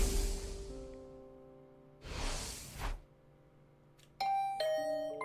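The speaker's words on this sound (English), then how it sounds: "Was that my doorbell?" A doorbell rings in The Hundred Line: Last Defense Academy, two soft whooshing swells followed by a bright chiming ding-dong near the end, clear and close with no talking.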